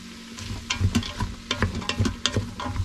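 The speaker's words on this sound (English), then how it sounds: "I want to saute those in so that the carrots get a nice flavor" Carrots sizzle and are stirred in a soup pot, with uneven scraping and clattering strokes over a soft frying hiss, close and fairly quiet.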